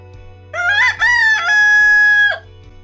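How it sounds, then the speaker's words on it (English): A rooster crows a single loud, close cock-a-doodle-doo, rising in two quick bursts and then holding one long note before cutting off. "Rooster."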